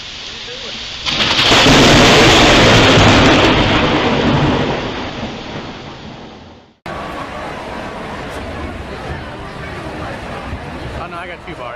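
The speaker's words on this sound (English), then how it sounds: "Got some severe thunder coming" Loud, close thunder rolls through a rainy thunderstorm, building into a long roaring rumble before cutting off, followed by steady rain hiss; a voice speaks over it.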